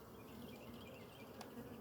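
Honeybees fly around the entrance of a hive during an inspection, a steady faint buzzing drone that continues throughout, fairly distant and soft, with no voices.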